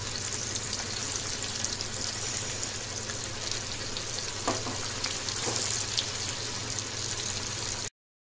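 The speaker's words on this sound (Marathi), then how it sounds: "मी गॅसवर तवा ठेवलेला आहे, त्याच्यात 2 पळी तेल टाकलेले आहे। आपण फिश फ्राय करून घेऊया।" Thapi fish frying in oil on a tawa over a gas flame, a loud, continuous close sizzle with a couple of faint clinks, no talking, then a sudden cut to silence.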